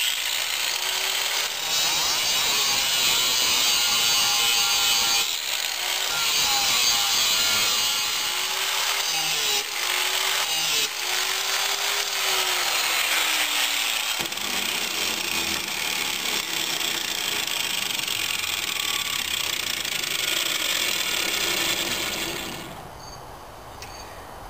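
A power tool grinds a quick edge onto worn lawn mower blades, a steady high whine with scraping metal contact that wavers as the blade is worked, continuing for over twenty seconds before cutting off near the end.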